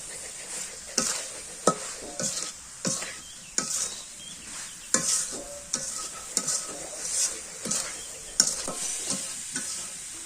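Three bay leaves dropped into a hot pan on a clay stove and stirred, with repeated scraping strokes of the spatula in a steady rhythm over a continuous background sizzle, close and fairly quiet.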